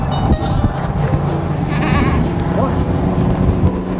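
Mother goats on a farm bleat amid a busy mix of nearby animal noise and occasional talk, the calls close and fairly loud over a steady background.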